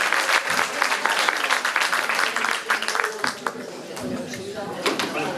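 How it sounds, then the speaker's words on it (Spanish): Audience applause for two speakers at a French champagne talk during a Spanish town's cultural week, a dense burst of clapping mixed with voices that thins toward the end. "Un fuerte aplauso para José y para Jorge"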